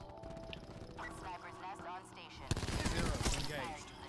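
Bursts of gunfire from Call of Duty: Black Ops 4 multiplayer, with a Spitfire class loadout, rattle under someone talking, including one sharp loud shot partway through followed by more rapid firing.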